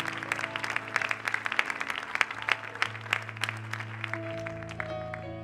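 A church congregation applauds the Lord, with steady, dense clapping and some cheering over sustained organ or keyboard chords during a worship service.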